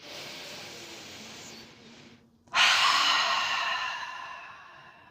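Deep breathing during a yoga session: a long, steady airy exhale, a brief pause, then a sharp loud inhale through the mouth that tapers off slowly, close up and with no talking.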